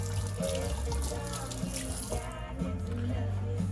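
Tap water runs steadily into a kitchen sink as a cook washes hands while preparing grilled chicken and salad, a continuous close splashing stream heard alone.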